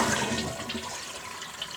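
A toilet flushes with its water supply shut off, draining the tank in a steady close rush of water that fills the whole moment.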